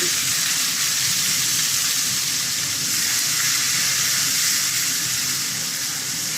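Grated ginger and tomato go into a hot pan for a vegetarian papad and chana dish, giving a steady, close, broadband sizzle and hiss that holds evenly throughout with no talk.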